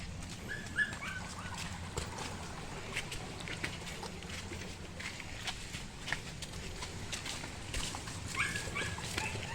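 A dog barks and whimpers outdoors on rocky ground near a beach resort, its sharp calls rising now and then over steady wind and surf noise, with footsteps nearby.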